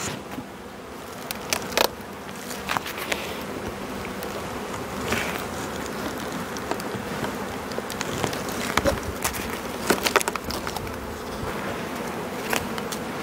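A strong honeybee colony hums from an opened hive during a spring inspection, a dense, continuous close buzz with occasional louder bees passing near and faint knocks from the frames.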